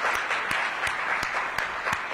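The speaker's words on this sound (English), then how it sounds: "Can we please have another round of applause for her?" A crowd at a downtown Washington DC planning meeting applauds the mayor, a continuous patter of many clapping hands with a few sharper, regularly spaced claps standing out near the microphone.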